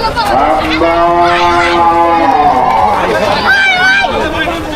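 A very large, angry black bull at the Dholaikhal cattle market lets out long, loud bellowing moos close by, amid crowd hubbub and voices.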